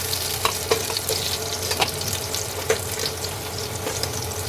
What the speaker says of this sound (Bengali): আলুগুলো হালকা লাল করে ভেজে নেবো